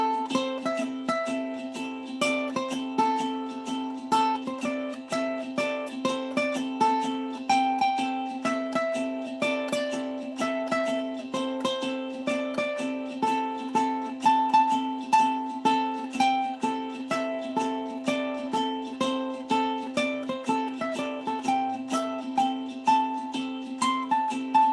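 A ukulele plays a single-string solo that climbs and descends through plucked melody notes over a steady strummed chord backing, close and clear with a constant rhythmic pulse and no voices.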